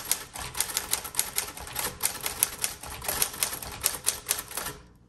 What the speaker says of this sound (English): Okay, let's keep typing.